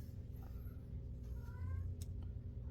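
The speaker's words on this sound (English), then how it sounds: "That'll be my little cat who's in heat." A female cat in heat lets out a few faint, drawn-out meows over a steady low background hum in an indoor room.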